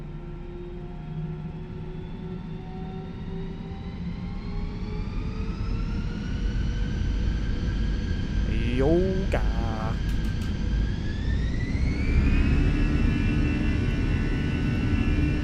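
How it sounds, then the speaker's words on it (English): Airbus A320 jet engines spooling up to full takeoff thrust in a flight simulator, a loud, steadily rising roar with whining tones climbing in pitch, as someone talks briefly over it. "This is about as loud as these engines can get with the packs off Toga takeoff"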